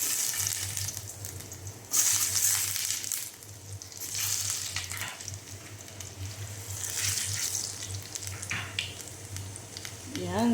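Garlic sizzles in hot oil, a steady crackling fry with bursts of louder spattering as the pan is stirred, continuous across the clip and up close.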